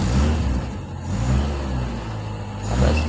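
A CNG-converted car engine revs repeatedly nearby, a loud low rumble rising and falling in several throttle swells while the car sits idle during reducer tuning.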